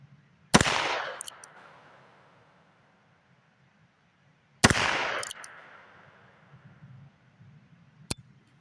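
Three loud, sharp revolver shots from a Heritage Wild Bill Hickok Talo Edition pistol at an outdoor range, spaced several seconds apart, each ringing out with a long decaying tail.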